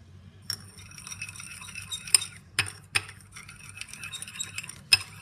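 A spoon stirs shampoo and sugar slime in a glass, giving faint, irregular clinks and scrapes against the rim with a few sharper taps over quiet room noise.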